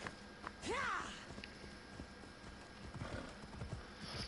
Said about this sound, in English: There's my horse. Look at that beautiful horse.